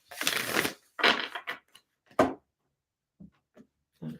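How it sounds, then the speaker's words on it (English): Tarot cards being shuffled during a pick-a-card reading: a few bursts of riffling and papery slaps up close, then scattered soft taps and shuffles, with no talk. "I'm going to do a couple shuffles."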